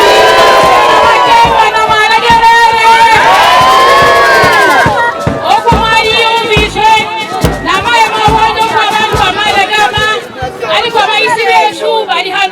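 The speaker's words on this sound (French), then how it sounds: "une foule immense l'accueille" A huge crowd welcomes a visiting politician on the north of Idjwi island in South Kivu, with loud continuous cheering, shouting and chatter, plus rhythmic singing or chanting voices running throughout.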